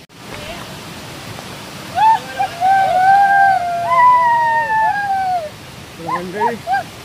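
Rushing water of the Chandranagar waterfall during the rainy season plays as a steady, loud roar through the whole stretch, with voices calling out over it.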